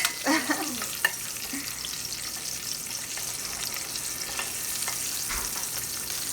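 Onion frying in a pan for Mexican white rice, a soft steady sizzle at close range with a few scraping stirs near the start and a faint clink later.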